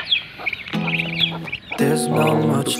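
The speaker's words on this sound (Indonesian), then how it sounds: "entok-entok biasa, entok kampung ya. Ini di usia 1 bulan." Young one-month-old village muscovy ducklings peep and chirp in a simple homemade pen, high repeated calls overlapping in a busy, close chorus.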